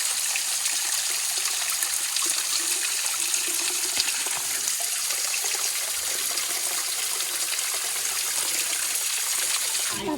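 Water trickles and splashes steadily over a small waterfall in the Ozark National Forest, a continuous close, even wash with no pauses.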